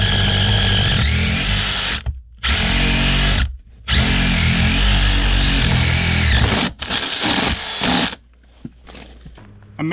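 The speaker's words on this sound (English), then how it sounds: "I measured and I cut my pipe." A power tool cuts through a pipe in several loud, close bursts with short pauses between them, its whine steady during each run.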